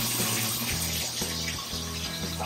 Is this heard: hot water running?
yes